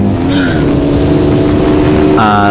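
A freshly overhauled motorcycle revving hard in first gear on a road in Zamboanga City, a loud, steady, close engine whine held high before shifting pitch near the end.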